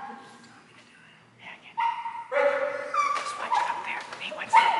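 A dog in a training session lets out a string of sharp yelps and whining barks, loud and close, getting more intense toward the end, with people talking at times.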